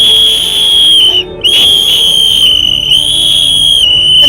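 A person whistles loudly at a cricket match review for CSK vs MI. A piercing, sustained high note is held close and strong, with a short break near the middle, and there is no talking.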